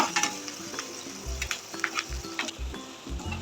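Beans and egg deep-frying in a pan give a continuous loud sizzle, with rhythmic stirring scrapes and light clinks of a utensil against the pan, close and without talking.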